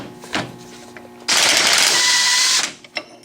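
Pneumatic impact gun spinning off the lock nut on a Dana 44 axle, one loud sustained rattling burst of about a second and a half, followed by a couple of short clicks.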